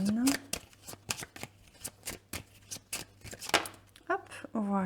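Tarot cards being shuffled for a weekly card draw, repeated quick riffling and slapping bursts close by, with a voice speaking around and between them.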